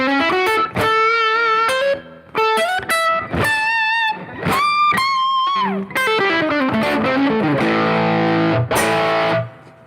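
An electric guitar played through a Zen Drive overdrive pedal gives a bluesy, mildly distorted tone, loud and close, with bends, sustained single notes and short phrases broken by brief pauses, with no talk.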